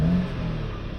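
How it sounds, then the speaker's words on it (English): An Audi A5 1.8 TFSI petrol engine with a turbo boost fault, heard up close as a steady, loud rumble settling after a rev, alone with no talking. "The engine seems to be handling it well. It's coming back down to idle nicely."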